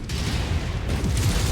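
A damaged mech's stored ammunition cooks off in Mechwarrior 5, a dense, continuous roar of booming, crackling detonations with heavy low rumble filling the whole stretch, loud and close with no talk over it.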